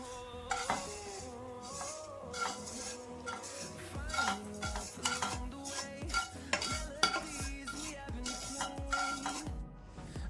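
Vermicelli stirred in a boiling pot of ragi payasa, a busy run of scraping clinks and knocks of a spoon against the metal pot, close and continuous.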